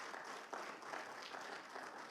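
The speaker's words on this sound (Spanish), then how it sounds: "¿Cuántos le dan aplauso a Cristo?" A congregation applauding in church during a sermon, a steady patter of many hands clapping, fairly faint and even throughout.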